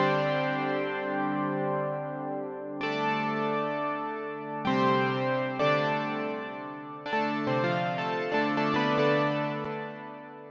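A ZynAddSubFX synth pad preset in LMMS plays sustained, rich chords that hold and swell. New chords enter every second or two, overlapping into a dense, steady wash with no voices.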